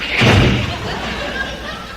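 A man vocally imitates a car door slamming, a single loud thudding slam near the start followed by a lingering breathy tail.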